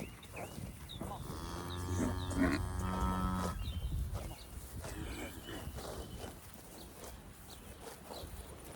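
Cattle in a pasture moo in one drawn-out, fairly close low call, followed by quieter rustling and distant outdoor ambience with faint bird sounds.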